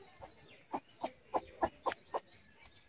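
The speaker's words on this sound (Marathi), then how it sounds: "हे बघा आमची कोंबडी अंड्यावर बसलेली आहे" Free-range village hen, recently brooding on eggs, giving a series of about seven soft, evenly spaced clucks, close but fairly quiet, with no one talking.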